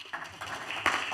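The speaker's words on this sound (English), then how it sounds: "I was hoping for a round of applause for home team" A conference audience at a Bitcoin event in London gives a short round of applause, scattered claps swelling briefly at moderate distance.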